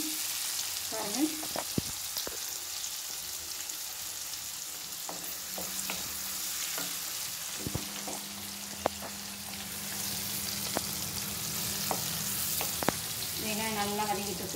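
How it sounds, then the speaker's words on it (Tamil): Onions fry in a pan for a Brahmi leaves kulambu, a steady soft sizzle with occasional spatula clicks and scrapes against the pan, fairly quiet and close, with no talking. "வெங்காயம் நல்லா வதங்கிட்டுருக்கு,"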